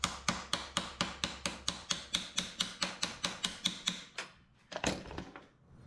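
Steady, evenly spaced taps about five times a second drive a steel floor panel into place on a 1959 Mazda B100 pickup truck, then a couple of irregular knocks end it, close and sharp.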